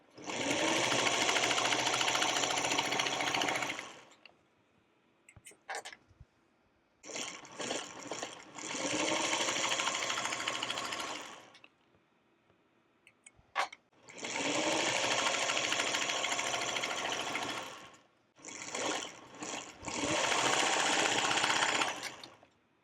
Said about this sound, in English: I'll take this over to the sewing machine.